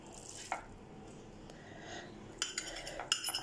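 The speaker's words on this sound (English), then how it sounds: "Just add 5 spoons of the noodle liquid. There it is, and just mix it very well." Ramen noodles being stirred together with sauce in a bowl, giving a few faint clinks of a utensil against the dish and soft wet mixing sounds, with sharper scrapes toward the end and no talking.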